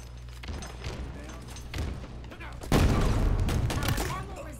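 A grenade blast in the Halo Infinite video game lands as a sudden loud burst partway through, amid game gunfire and sound effects, with players talking over the action.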